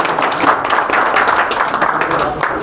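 An audience at a civil defence training session run by an NDRF team at a training academy claps steadily for a couple of seconds, with crowd voices mixed into the dense clatter.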